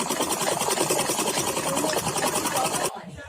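A sewing machine runs a fast, even stitch along cloth for a pajama waistband, a close, steady whirring that stops abruptly just before the end.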